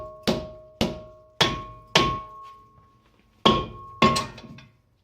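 A stuck front brake rotor on a Subaru Legacy GT struck off the hub with six sharp metallic hammer blows, close and loud, each ringing briefly, spaced about half a second apart with a short pause before the last two.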